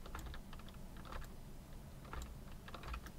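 Computer keyboard typing during play of Surgeon Simulator, quiet irregular bursts of key clicks scattered over a soft background hiss, with no talking.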